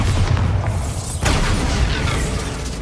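Bombarda blasting spell explosion in the game Hogwarts Legacy, a dense roaring boom with rumbling low end and a sharp secondary burst midway, loud and continuous for a few seconds.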